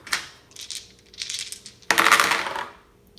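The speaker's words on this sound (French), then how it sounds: "Et il va tourner les dés." Dice clatter and rattle across a game board in a couple of bursts, the second louder and longer, during a King of Tokyo board game.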